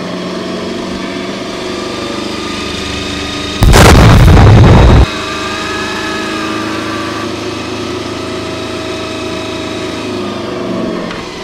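A homemade 60HP, 120-volt electric go-kart motor held at full throttle gives a steady, fairly quiet whine, broken midway by a loud, rough burst lasting just over a second.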